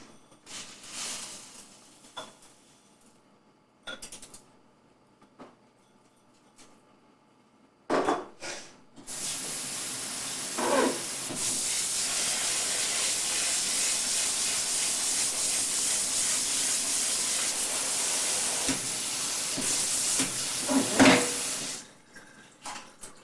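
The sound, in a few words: rinsing rice in a colander under water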